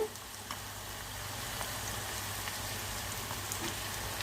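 Boiled, mashed potatoes frying in a pan with onions and green chillies make a faint, steady crackling sizzle with a few soft pops over low background hum.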